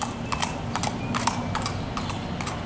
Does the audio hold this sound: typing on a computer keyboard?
no